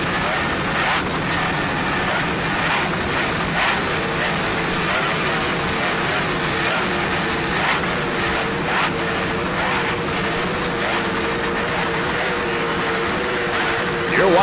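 Powerboat engines roar and throttle during the 1995 offshore World Championship race at Key West, a steady, dense drone from start to finish that fluctuates slightly in pitch, with talk faintly present beneath it.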